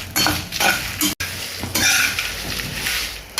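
A spoon stirs and scrapes through ground nut powder roasting with asafoetida in a pan, giving repeated close scraping strokes with a faint dry sizzle and one brief pause.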